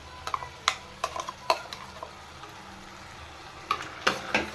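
A spoon stirs ground paste into palak and methi pulao frying in a pan, giving several scraping, clinking strokes in bursts over a soft, steady sizzle, close and fairly quiet.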